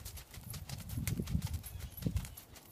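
A ridden horse's hooves clip-clop in a steady rhythm during a riding lesson, at moderate distance and fairly soft, with no one speaking over the footfalls.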